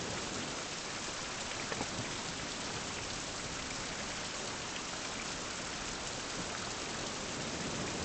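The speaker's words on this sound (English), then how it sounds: "And it's raining." Steady rain pouring down in the survival video game Fountain of Youth, a dense, even hiss of drops holding at constant loudness throughout with no voices.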